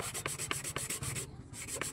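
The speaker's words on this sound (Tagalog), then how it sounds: "Ayan, meron tayong liha. Lihain natin." Steady rhythmic rasping of sandpaper rubbed back and forth on the metal shaft of an electric fan, close and fairly quiet, with a brief pause near the end.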